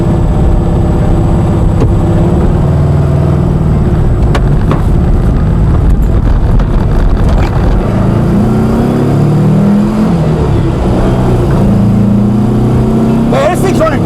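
An old Porsche back on the road after about 30 years drives under constant loud engine drone and road noise. Revs rise and fall through gear changes. Someone talks over it.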